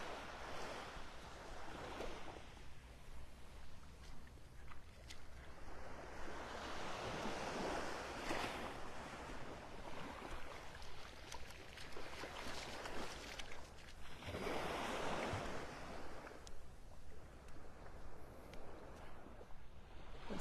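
Ocean surf washing up on the beach at North Naples, Florida, on an overcast morning with red drift algae in the water; steady broadband wash with repeated wave swells and some wind noise, no talking.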